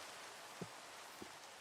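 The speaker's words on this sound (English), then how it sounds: "It's raining and thundering." Rain falling steadily in the Minecraft video game, a soft, faint, even hiss with two brief low drips or taps, no voices.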